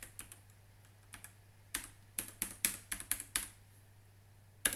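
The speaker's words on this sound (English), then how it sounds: "Password for user Jordan." Keys on a computer keyboard are typed in short bursts while entering a password during an Arch Linux install, with a steady electrical hum beneath; about a dozen crisp clicks come in quick clusters with pauses between.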